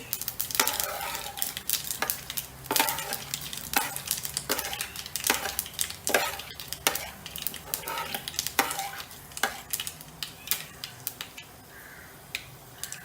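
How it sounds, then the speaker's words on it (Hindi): Mustard seeds and fenugreek sizzle and pop steadily in hot oil in a pan while cooking an Indian vegetarian dish, with frequent sharp crackles and spatters over a constant frying hiss, close and moderately loud, with no talking. "इसमें हम राई के दाने डालेंगे। मेथी,"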